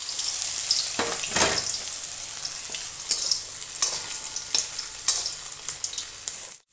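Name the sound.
chicken deep frying in oil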